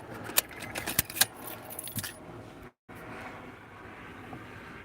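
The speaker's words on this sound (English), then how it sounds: "take the keys out" Car keys jangling as they are pulled out, several bright metallic clinks bunched in the first couple of seconds, followed by a brief dropout and then a quieter, steady background hum.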